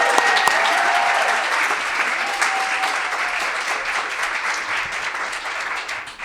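Sustained applause from an audience honoring award winners at a university sustainability awards ceremony, a dense steady wash of many hands clapping close by that holds at full strength for several seconds.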